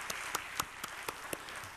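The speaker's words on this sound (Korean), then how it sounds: "하나님께 감사와 영광의 박수 돌려드립시다" Congregation at a Korean church's special Lenten night service gives a round of applause, heard as faint, fairly regular claps against a soft hiss, with no talking.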